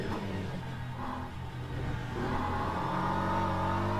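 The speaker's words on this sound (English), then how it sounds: "We're on board with Aiden Russell in the BMW. What a beautiful sounding car. Oh, I love that engine sound." Onboard engine of Aiden Russell's BMW race car during an evening dash at Bahrain, a loud, steady mid-pitched roar with rising revs and gear changes, held continuously close to the microphone.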